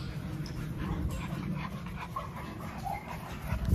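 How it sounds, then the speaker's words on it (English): A new puppy pants and gives faint whimpers and yips nearby, soft and irregular over a low background rumble, with no speech. "And you see my new puppy right here, man."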